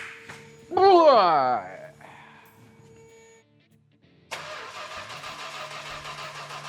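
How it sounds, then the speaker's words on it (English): A car engine cranks over and catches, producing a steady, rhythmic mechanical churn at close range. A brief sliding vocal sound comes first, followed by a short lull. "let's start and see if it just cranks over"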